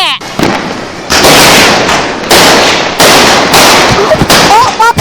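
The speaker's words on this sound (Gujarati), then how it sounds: "અહીંયા ફટાકડા ફોડવા છે" Loud firecrackers burst in rapid, crackling volleys, several blasts in a row with sharp pops and a few whistling rockets toward the end.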